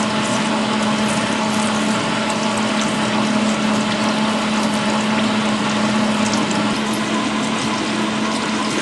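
Water coolant flowing steadily while parting off on a small lathe at 66 RPM: a constant, loud hiss and rush with an even hum beneath it and no breaks.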